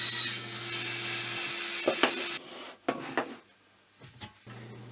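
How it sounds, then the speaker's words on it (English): A mitre sled with a stop block cutting plywood, with a steady saw whine followed by a few sharp knocks and clunks as pieces are set and pulled away. "This is what you see me doing here, using the mitre sled with a stop block to make sure the pieces were sized correctly"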